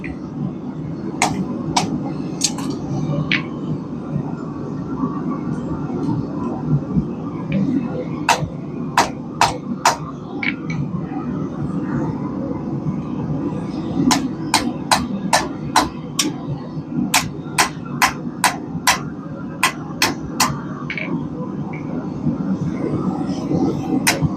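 A smith hammers a taper into the heated handle of a basic forged throwing knife: sharp ringing metal-on-metal strikes come in steady bursts of quick blows, loud and close, over a constant forge roar.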